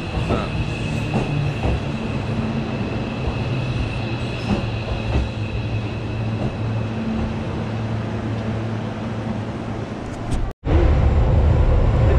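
Train passes close by near a Mt. Takao hiking path, a loud steady rumble of wheels with rhythmic clicks and faint squeals, ending abruptly.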